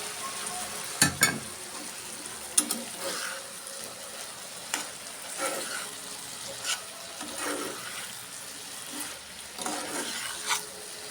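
Tomatoes and green chillies frying in a pan, a steady close sizzle with intermittent scraping stirs and a couple of sharp utensil clinks, no talking.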